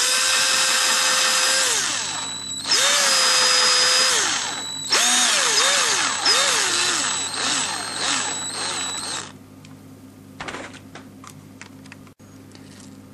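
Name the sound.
drilling with a 3mm drill bit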